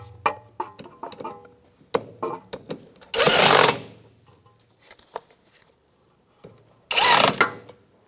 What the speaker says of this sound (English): I'm just going to hand tighten them